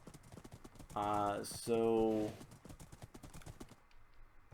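A horse's hooves clip-clop in a Minecraft game, two short bursts of steady, rhythmic clopping at close range while someone talks quietly around them.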